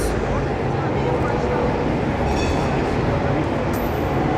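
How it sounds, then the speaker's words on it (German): A tram emerging from a tunnel at a city stop, with a hybrid bus nearby, gives a steady rolling rail rumble amid constant street noise. "Und da kommt aus dem Tunnel auch noch gleichzeitig gerade noch so ein Straßenbahn raus."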